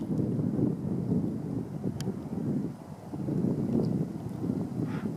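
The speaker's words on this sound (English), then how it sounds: "It's windy on the lake." Wind gusts across a choppy lake, a continuous low rumbling rush with microphone buffeting that swells and eases, close and fairly loud, with no voices.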